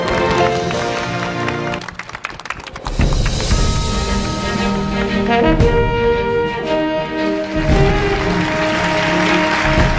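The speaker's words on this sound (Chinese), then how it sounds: "掌声有请" Music plays over dense clapping from a large crowd at a televised charity launch ceremony for a poverty-alleviation campaign, with a brief dip before the applause swells back to full strength.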